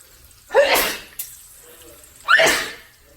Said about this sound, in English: But shoot, gotta be sneezing out here.